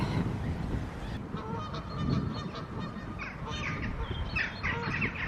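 Geese on a canal honk repeatedly in the distance over a constant wash of outdoor background noise, several birds calling back and forth.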